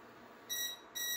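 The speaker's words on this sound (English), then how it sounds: "I'm sure that buzzer is going to ring any second." Two short electronic buzzer beeps from an electric skillet timer sound in quick succession, bright and tonal, over a faint background hum.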